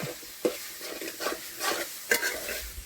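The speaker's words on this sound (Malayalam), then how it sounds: "ആ തക്കാളി ഇട്ട് അഞ്ച് സെക്കൻഡ് ഇളക്കി കഴിഞ്ഞിട്ട്" Chopped tomatoes sizzle in hot oil in a pan for a fishless fish curry while a spoon stirs them, with soft frying crackle broken by several scraping stir strokes and no voices.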